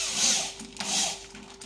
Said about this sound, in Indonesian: Kita putar bornya.